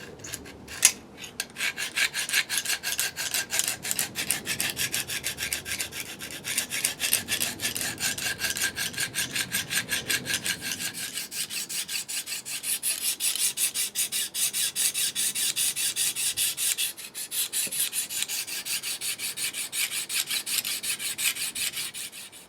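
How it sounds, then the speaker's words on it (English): Knife blade drawn repeatedly across Lansky coarse and then medium sharpening stones, a rapid rhythmic rasping scrape that stays close and steady throughout, with no speech. "just running through both sides of the coarse and then the medium and a bit of the fine"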